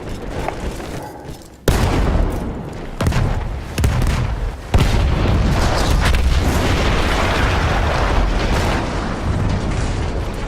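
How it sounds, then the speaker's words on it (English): A destroyed artillery gun erupts in the Battlefield 1 World War I video game: a sudden loud blast after a quiet opening, followed by further booms and a sustained roaring rumble of explosions and debris. "That explosion was one of the sweetest sights of the war for me."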